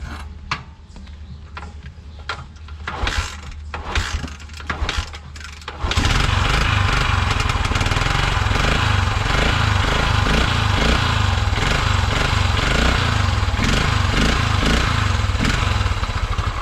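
A restored 1974 Honda XL250 motorcycle, choke pulled after sitting a year and a half, is cranked through several sputtering attempts before its engine catches around midway and settles into a loud, steady running drone.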